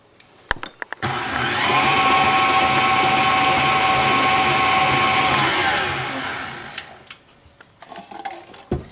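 An electric mixer whirs steadily at close range while beating buttercream icing, starting abruptly and running for several seconds before winding down, followed by light clatter.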